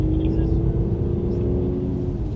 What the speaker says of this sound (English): You hear it sound, the exhaust opens up, it starts to sound much nicer.